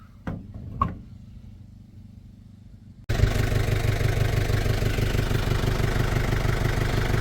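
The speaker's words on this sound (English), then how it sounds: "Got the old Rocky purring away behind us, just giving her a weekly start up to keep the engine running" An old car gets its weekly start-up: a few faint knocks in near-silence, then the engine abruptly fires and settles into a loud, steady, close-up idle with a rapid pulsing rhythm.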